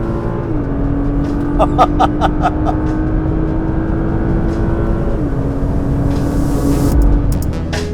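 A Nissan GT-R Track Edition with a twin-turbo engine accelerates, a loud steady drone heard from inside the car that holds a constant pitch and then steps down briefly, with a faint higher whine over it.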